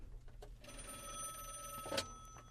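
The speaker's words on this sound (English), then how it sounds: "I think we're getting a phone call." An incoming call rings during a live stream, a faint, steady electronic ringtone lasting over a second with a brief click near its end, heard without anyone speaking.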